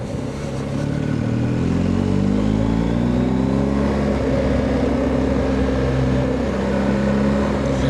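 A scooter's small motor buzzes steadily close by, its engine pitch shifting as it passes, loud and continuous with no talking.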